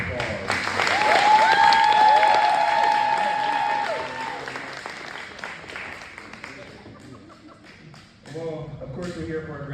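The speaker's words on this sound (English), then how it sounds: "Let's give them a round of applause." Audience applause for graduates of a neighborhood leadership academy, clapping mixed with cheers and whoops that gradually fade, before a voice begins speaking near the end.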